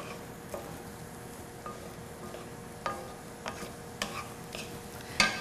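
Sofrito cooks in a pan with a soft, steady sizzle, broken by sharp clicks and scrapes of a utensil stirring against the pan, fairly quiet overall.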